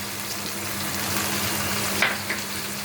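Ginger-garlic paste and chili powder sizzle steadily in hot oil in a pan for chital fish curry, a continuous close frying hiss with a couple of brief stirring scrapes near the end.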